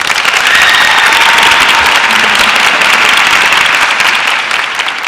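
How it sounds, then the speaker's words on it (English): Audience applause for honored teachers at a county teacher of the year ceremony, a loud, sustained wash of clapping from a large crowd that holds steady and then tapers slightly at the end. "Please join me in a round of applause to say a sincere thank you to these educators"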